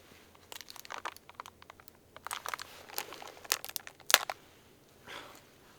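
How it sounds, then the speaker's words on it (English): Plastic crinkling and snapping at winter camp on a frozen island: close, quiet bursts of dry crackle and crunch come in uneven clusters, with one sharper crack near the end, with no talking. "Plastic just broke off."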